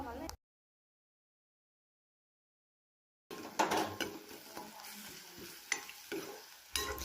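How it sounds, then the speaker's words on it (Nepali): Onion and chopped chili stir-fried in a pan, with sizzling and the scrape and clatter of stirring after a short gap of silence, close and fairly loud. "हामीले प्याज र यो काटेको खुर्सानीलाई चाहिँ मजाले स्टर फ्राई गर्नेछौँ।"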